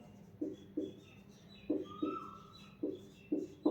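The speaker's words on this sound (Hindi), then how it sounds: "कोयल की आवाज आ रही है" An Asian koel calls outdoors, a run of short rising whistled notes repeated at a steady pace, faint and distant over a quiet background.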